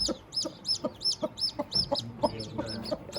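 A mix of native and other hens with their chicks, clucking in a quick, regular run of short calls, close and fairly quiet, with no talk.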